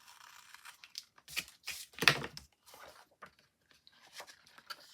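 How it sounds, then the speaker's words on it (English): Cardstock being cut and trimmed while making a Christmas card with an acetate front, quiet close snips and tearing rustles in irregular short bursts, one sharper crunch in the middle. "Cut off what I don't need."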